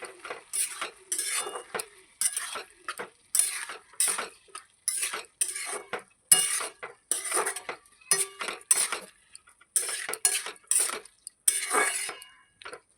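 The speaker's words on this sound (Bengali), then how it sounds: "এবার নেড়ে চেড়ে নেবো, ভালো করে মিশিয়ে দেবো এর মধ্যে" Fried freshwater snails are stirred in a pan, with rhythmic metallic scraping and clinking in quick bursts of strokes separated by short pauses. The strokes are close and fairly loud over faint frying, and no one speaks.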